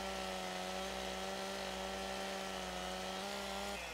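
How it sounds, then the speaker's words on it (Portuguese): A chainsaw in Farming Simulator 2015 cuts at the base of a tree in a forest setting, its engine holding a steady, loud buzzing whine throughout, with the tone shifting slightly near the end. "Vou estar pegando a motosserra e vou estar cortando aqui embaixo da árvore."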